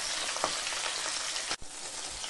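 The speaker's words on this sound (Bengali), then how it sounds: "মাছগুলো কড়াভাবে ভাজবো না, হালকা করে ভেজে নেব।" Pabda fish frying lightly in mustard oil in a pan: a steady, soft, close sizzle with no speech, broken once by a brief clatter.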